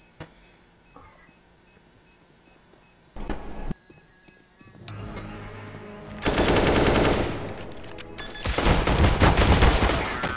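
Gunfire in CS:GO on the Dust 2 map: scattered shots and beeps lead into loud, sustained bursts of rapid automatic fire close by, dropping briefly before another heavy volley.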